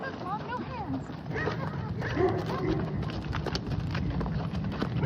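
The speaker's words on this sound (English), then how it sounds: "Got that good horse sound right there." Horse hooves clip-clop at a steady walking pace, fairly faint and somewhat muffled, set against a noisy background with some voices.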